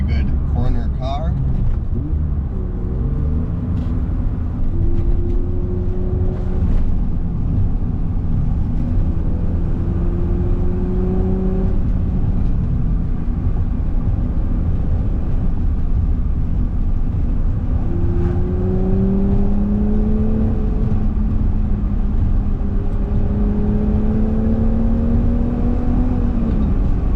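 A 1988 BMW Alpina B3 2.7 E30 engine heard from inside while driving through corners, a loud droning tone climbing in repeated revving sweeps as it accelerates, then easing between bends, with road rumble underneath.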